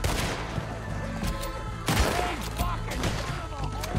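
Gunfire rings out in a Red Dead Redemption 2 fight, a burst of loud overlapping shots with a heavy blast near the midpoint, all set over a dense, continuous game soundscape.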